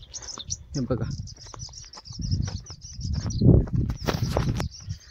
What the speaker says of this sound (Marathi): पक्ष्यांचा किलबिल.